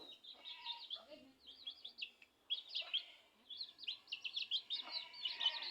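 Busy, repeated common myna chirps and whistled calls in quick bursts, fairly close, with brief pauses between flurries and no talking.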